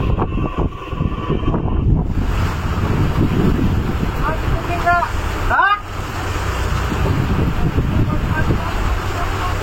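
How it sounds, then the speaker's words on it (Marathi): Stormy wind and sea waves roar steadily around a fishing boat at sea off Mumbai, with a constant rumble and wind buffeting the microphone and a few brief sharp squeaks. "बघा वादळी वाऱ्यात आपली बोट कशी आणते बघा."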